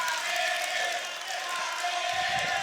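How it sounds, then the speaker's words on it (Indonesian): An audience at a debate between candidates for general chair cheers and applauds for candidate number 3, producing a dense, steady wash of crowd noise with shouts running through it. "kita berikan tepuk tangan untuk Caketum nomor urut 3"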